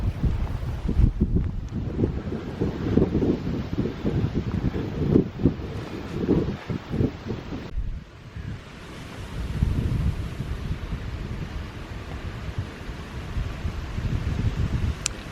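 Strong wind buffets the microphone in gusty, rumbling bursts, easing briefly midway before roaring back, with no one speaking.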